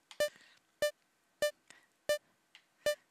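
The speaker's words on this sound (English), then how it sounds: "Yeah, sad beep boops." Sad electronic beep boops in the VVVVVV video game, six or so short tonal blips spaced evenly about half a second apart, clear and close with faint softer chirps between them.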